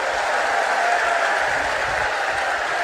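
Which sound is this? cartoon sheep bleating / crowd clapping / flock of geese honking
crowd clapping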